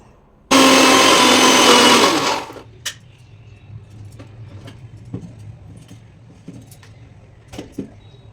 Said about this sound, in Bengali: এবার মশলাগুলো মিক্সিতে বেটে নিচ্ছি।